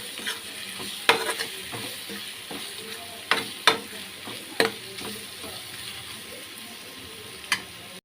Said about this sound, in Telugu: వేసుకుని పచ్చి వాసన పోయే వరకు ఇట్లా కలుపుతున్నాము